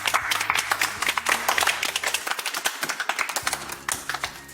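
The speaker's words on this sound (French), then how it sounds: "Mais applaudissons-nous pour l'effort." A small group claps sparsely and unevenly for a few seconds, the individual hand claps distinct and close, fading into scattered taps near the end, with no talk over it.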